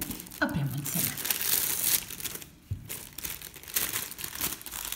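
Beauty subscription box packaging being handled and opened, with steady crinkling and rustling of paper and plastic close up, continuing with brief pauses throughout.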